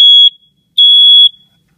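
A GE Interlogix smoke detector sounds its test alarm: two loud, piercing high-pitched beeps, the first cut short and the second lasting about half a second, separated by brief silence.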